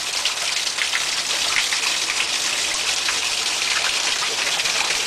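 Water gushes from the overflow of a Cornish pulser pump in a steady, dense splashing hiss, close and constant with no voices.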